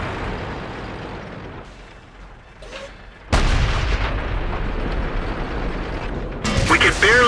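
Tank cannon fire in World of Tanks, one heavy, loud boom that cuts in after quieter rumbling and holds as a dense roar, with mechanical clatter and a second blast near the end; voices talk underneath.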